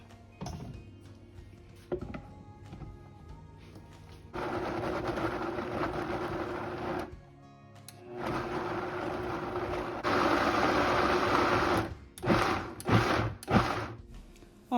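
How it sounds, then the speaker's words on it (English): A kitchen blender roughly blending fish seasoning with olive oil, whirring in several short bursts of a few seconds each, with brief pauses and a quick string of pulses at the end. "So we'll now proceed to blend, and I want it roughly blended, not all the way smooth"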